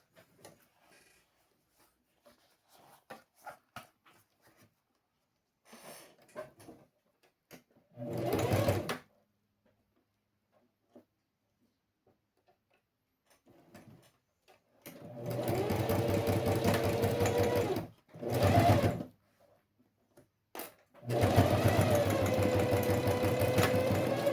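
Sewing machine stitching a Bob Goods pencil case, running in several bursts: a short run, then two longer steady passes split by a brief stop, with faint handling noises between.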